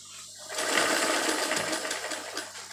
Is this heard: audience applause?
no